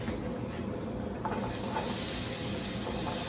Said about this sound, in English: So I'm gonna go ahead and saute down these red onions.